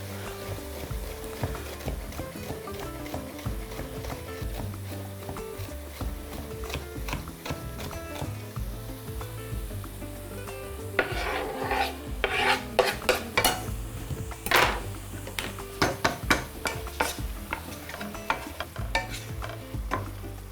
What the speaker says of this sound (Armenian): Քաղցր պղպեղը կկտրատեմ ձողիկների